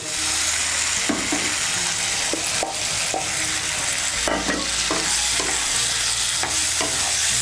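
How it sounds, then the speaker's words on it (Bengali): Fried potatoes are stirred in a pan with turmeric and chilli powder for a ridge gourd and potato dish, with repeated spatula scrapes and knocks over a continuous sizzle and soft background music. "দিয়ে দেবো ভেজে রাখা আলু।"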